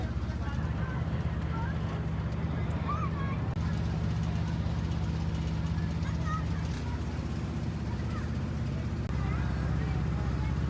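A low, steady boat engine hum drones throughout a river ride, with wind noise on the microphone and a voice talking over it.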